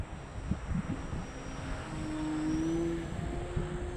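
Radio-controlled Durafly Bonanza V-tail plane (950mm, 3S battery) drones overhead, its buzzing electric motor tone rising and steady, moderately close, with light wind noise and no talk.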